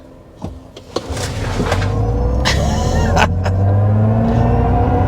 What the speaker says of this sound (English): Yeah, that is really, really fast.